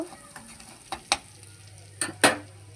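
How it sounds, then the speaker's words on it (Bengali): Crushed garlic and green chili fry in a pan for a brinjal-methi dish, a soft sizzle underneath a few sharp, scattered scrapes and clinks from stirring, close and fairly quiet. "এবারে থেতো করে রাখা রসুন আর লঙ্কাটা দিয়ে দেবো এর মধ্যে। কিছুক্ষণ নাড়াচাড়া করে একটু ভেজে নেব"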